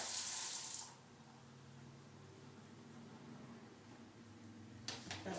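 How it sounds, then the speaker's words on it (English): Water running from a sink tap during handwashing, a steady hissing stream that drops in level after the first second and continues evenly, then a short clatter near the end. "Lastly, turn off the water."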